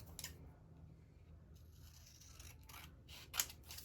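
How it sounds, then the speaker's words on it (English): Scissors snip paper for a 12x12 scrapbook layout, giving a few quiet, brief cuts with a sharper snip near the end, under a low background hum. "I'm going to trim this down just a little bit"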